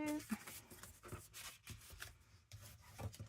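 Old paper torn from a vintage book is folded and creased into an envelope, giving soft close rubbing and crinkling sounds with short scraping strokes at low volume.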